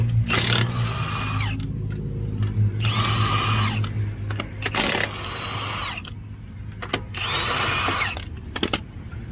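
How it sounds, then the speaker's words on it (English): A power drill whirs in several short bursts with pauses between, running wheel bolts off a Mercedes GLE 350 while changing a flat tire, interspersed with small clicks and clanks of metal nearby. "I'm going to cheat by using a drill. Let's run these off."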